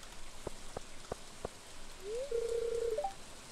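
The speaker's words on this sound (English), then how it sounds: "Got a bit of rain." Steady rain hiss in the PC farming game Stardew Valley, a soft even wash that runs the whole time beneath a few sharp clicks and a brief rising electronic chime near the end.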